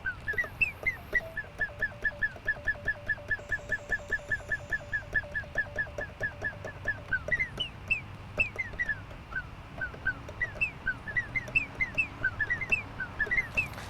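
Rapid, evenly spaced electronic chirps repeat in a steady run, then become looser rising and falling synthetic bird-like whistles over a low background hum.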